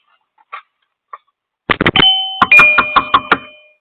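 A wireless video doorbell button is pressed after a couple of faint clicks, setting off a loud electronic chime of several ringing tones in quick succession that fade out.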